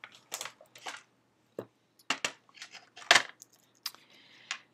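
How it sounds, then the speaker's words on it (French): Cutting a Christmas card with scissors, a series of short crisp snips and rustles of card stock, close and moderately loud with brief pauses between cuts and no talking. "Et on le range. On va le couper."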